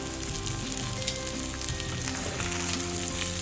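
Breaded chicken escalope frying in butter in a pan over a low flame gives a steady, close, continuous sizzle with soft crackling and no voices.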